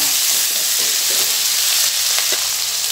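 Finely chopped onions and tomatoes sauté in a hot pan for a Tamil lentil-dumpling curry, giving a loud, steady sizzle with a few soft stirring scrapes.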